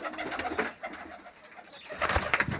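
Pigeons coo softly in a short stretch, a low murmuring call with some rustling and brief background noise.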